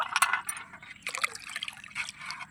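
Water is scooped into a container in a garden plot, with several bright splashing, clinking pours in bursts close to the listener against a quiet background.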